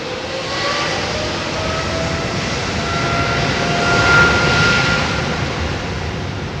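An airliner takes off down the runway at Heathrow, its engines producing a continuous broad roar that slowly swells as it accelerates, heard alone without talking.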